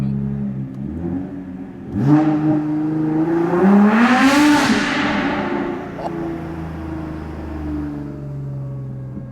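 A Nissan R35 GT-R on the Nürburgring roars loudly as it accelerates past, the engine note climbing and swelling to a peak before easing off into a steady drone.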